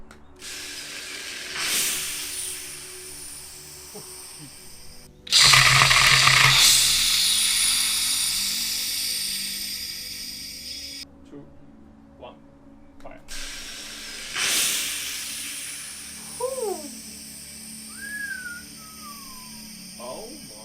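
High-pressure gas test firing through a reamed converging-diverging nozzle, giving a sudden loud broadband hiss-roar that holds for several seconds and then fades, with voices and a countdown around it.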